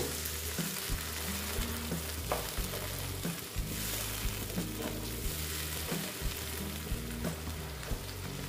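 A little water poured into spices frying in a pan for an egg and poppy-seed (posto) dish: a loud, continuous close sizzle with steady bubbling and occasional stirring knocks, with no talk.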